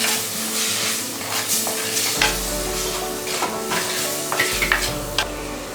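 Prawn theeyal curry stirred and frying in a pan, a steady close sizzle with repeated scraping strokes of the spoon throughout, no voices.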